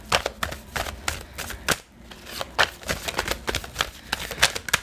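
Tarot cards are shuffled and drawn close up in a rapid series of crisp riffling, flicking and slapping bursts of irregular rhythm, with a short pause midway.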